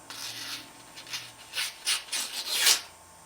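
A Spyderco karambit knife slices with a series of soft, rasping cuts, several short strokes in an irregular rhythm, the last one the longest and loudest, heard close and fairly quiet.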